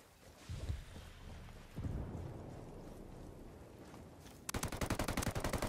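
Frag grenade blast followed by a hammering burst of automatic gunfire in a video game, a booming rumble giving way to rapid loud repeated shots at the end, with no speech over it.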